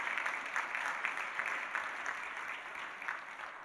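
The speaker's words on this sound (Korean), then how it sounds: "여러분 격려의 박수 한번 부탁합니다." Faint, distant applause from a church congregation during a worship service, steady and soft throughout the short stretch.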